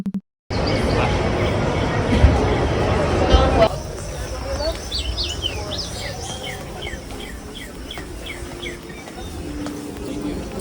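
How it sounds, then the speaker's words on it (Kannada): Small birds chirp and tweet in quick, high bursts against a steady hum of background noise, with a louder muddled stretch at the start, inside the Sphere venue in Las Vegas. "ಇಲ್ಲಿ ಮ್ಯೂಸಿಕ್ ಬದಲು ಹಕ್ಕಿಗಳ ಚಿಲಿಪಿಲಿ ಸೌಂಡ್ ನನಗೆ ಕಾಡಿನ ಆಭಾಸ ಆಯ್ತು."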